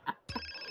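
A mobile phone in GTA San Andreas gives a brief electronic ring, a short tonal chirp followed by a sustained ringtone note, faint and alone.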